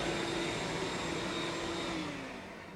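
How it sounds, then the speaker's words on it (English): A bandsaw cuts a wooden core print pattern, giving a continuous close whining hum with a steady tone that sags slightly toward the end. "I'm going to cut this on a bandsaw"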